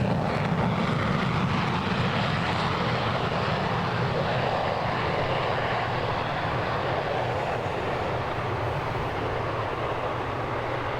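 A propeller airplane drones overhead at the Oshkosh airshow, a steady, loud, broadband engine roar that holds through the whole stretch with no talk over it.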